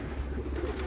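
Racing pigeons in a loft making a soft, low cooing in a short near burst over a steady background murmur.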